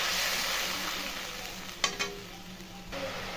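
A paste of Kashmiri chilli, cumin powder, salt and a little sugar fries for a potato curry in a pan, with a steady loud sizzle broken by a couple of sharp utensil knocks and scrapes.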